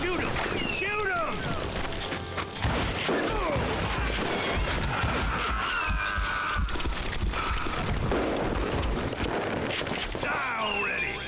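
Gunfire rings out in the Wild West shooter Call of Juarez: Gunslinger, with rapid repeated shots and crashes over a constant dense game mix, while voices shout over the action.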